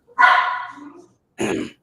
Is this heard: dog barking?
yes